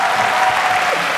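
A studio audience bursts into loud, dense applause, close and sustained for a brief moment.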